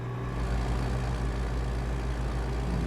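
Idling diesel engine of a garbage truck in the driving game American Truck Simulator, a steady low rumble that holds loud and unbroken, with no voices.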